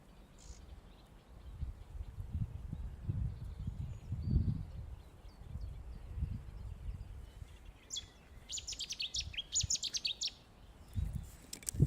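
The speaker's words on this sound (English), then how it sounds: "It's a chirpy bird." Small bird chirping outdoors on a nature walk on a fine day, bright short tweets bursting in clusters toward the end over low rumbling wind and ground noise.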